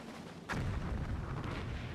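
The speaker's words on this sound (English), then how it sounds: "that's the artillery finishing" A single heavy artillery blast in a World War II strategy video game erupts suddenly and loudly, then trails into a long rumbling, crackling roar.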